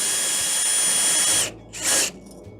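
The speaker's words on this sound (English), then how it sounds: "I got myself an adapter here so I don't have to use the hand crank" A power drill with a stabilizer adapter cranks down the stabilizer jacks on a Rockwood HW 277 camper, whirring steadily and loudly for over a second, then stopping and giving one more short burst.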